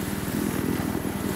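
Little Bird helicopter in the video game Battlefield 3, a steady rapid rotor chop with a low engine drone running continuously through a short stretch, loud and close with no talk.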